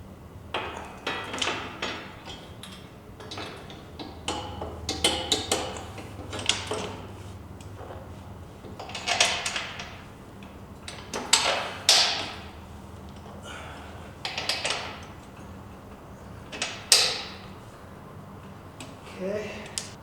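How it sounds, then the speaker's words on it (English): Parts of a bolt-on hardtail frame being fitted and loosely bolted onto an early Ironhead Harley XLCH 900, heard as scattered metallic taps, clinks and knocks at an irregular pace, fairly close, with occasional quiet voices. "Okay, loosely bolting it into place."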